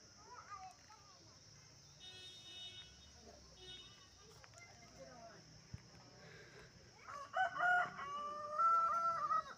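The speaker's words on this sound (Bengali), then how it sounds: "এখানেও মুরগি ডাকছে কোথায়।" A rooster crows from somewhere off in a pine forest on the road to Darjeeling, faint at first and then a louder drawn-out crow near the end, with people talking quietly over it.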